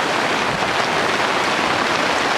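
Heavy rain pours steadily during a camping storm in Algonquin Park, a dense, loud, unbroken hiss of downpour close by with no voices.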